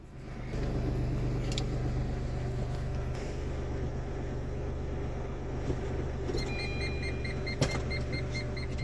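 A car maneuvers back and forth, reversing and turning in a tight spot with a low, steady engine drone, a few faint clicks, and a short run of quiet electronic beeps near the end.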